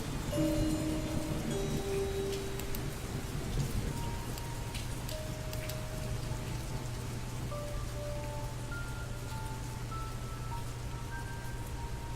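Steady rain falls in a video game scene, an even wash of patter under faint musical tones, with no talk over it.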